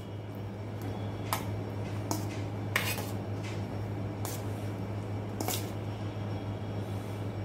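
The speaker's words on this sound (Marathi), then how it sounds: "इथे मी मक्याचे दाणे आता बाउल मध्ये घेत आहे।" Corn kernels go into a bowl as a few sparse, light clicks and taps over a quiet background hum.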